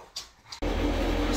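A dog being bathed after a skunk spraying gives a couple of soft whimpers, then a sudden loud, steady rush of spraying water takes over and masks everything else.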